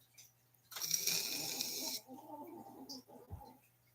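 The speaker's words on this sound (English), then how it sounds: "Can you hear that snoring down there?" A dog's loud, raspy snore rises for about a second, then softer snuffling breaths follow, with one low thump near the end.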